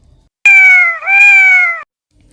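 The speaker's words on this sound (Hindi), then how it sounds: "म्याऊं म्याऊं म्याऊं" A single drawn-out, loud, close cat meow that bends slightly in the middle, heard alone in quiet.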